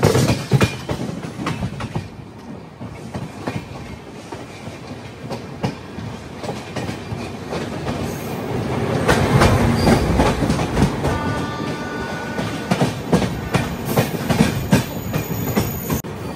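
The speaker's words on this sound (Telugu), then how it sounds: "ఇటుపక్క ఏదో గూడ్స్ బండి." Rumbling rail noise from a moving passenger train as a goods train passes alongside, with loud, continuous wheel clatter, rhythmic clickety-clack, and rising intensity midway, with no talking.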